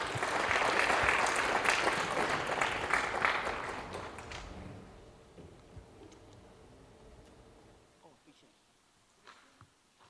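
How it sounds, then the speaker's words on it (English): Symposium audience applauding, a dense burst of clapping loud at first that fades out over about four seconds, leaving quiet room tone with a few scattered claps and small sounds. "Let us give another big round of applause to Professor Oh for the wonderful summary"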